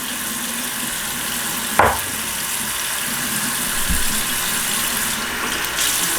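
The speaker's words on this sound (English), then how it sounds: "I just turned the water on." Water runs steadily from a tap into a sink during a skincare routine, a constant hiss throughout with a brief splash or clatter near the start and another soft bump later.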